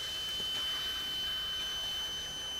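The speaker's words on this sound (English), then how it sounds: "That alarm there will activate once the actuator has been initiated by a manual inside the cabin" A fire suppression system alarm on a Cat D10 bulldozer sounds as a steady, high-pitched continuous tone over a constant background hiss, fairly loud and unbroken.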